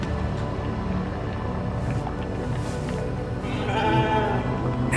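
Sheep bleat in a survival video game, a few wavering calls rising over a steady background hum, moderately close and clear.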